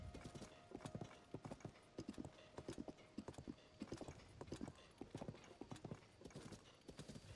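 Horse hooves in Zelda: Tears of the Kingdom clip-clop in a steady galloping rhythm near the Wetland Stable, crisp repeated hoofbeats close by with a faint whinny, no talk over them.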